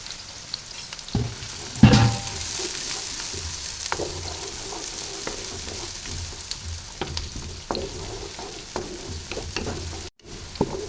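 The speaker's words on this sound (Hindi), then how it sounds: "ऑयल गर्म हो गया तो प्याज डालते हैं।" Onions frying in hot mustard oil for an aloo chicken curry, with a loud burst of sizzling as they hit the pan, then a steady crackling fry with occasional stirring scrapes close by.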